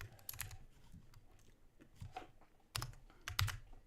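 Quiet clicks of typing on a computer keyboard come in short irregular bursts, with a few louder keystrokes near the end and no talking.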